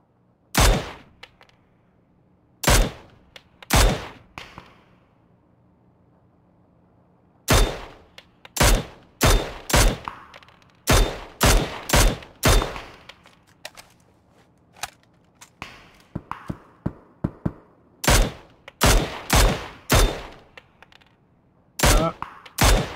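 Gunshots in PUBG on PC ring out in sharp, loud bursts, single cracks and short clustered volleys scattered across the stretch with quiet gaps between, some quieter distant shots in the middle.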